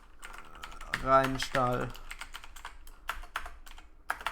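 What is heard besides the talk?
typing a search term on a computer keyboard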